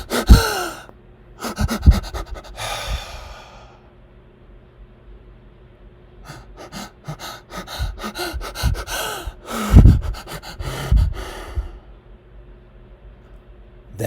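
A voice imitates Cheyne-Stokes breathing: a series of loud, close gasping breaths that swell and fade, then pause in near silence before the panting cycle starts again.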